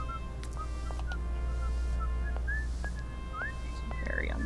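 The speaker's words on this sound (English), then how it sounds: "I hear whistling" Short, scattered whistled notes rising and gliding over a steady low ambient hum in the Syberia video game, faint and intermittent with no voices.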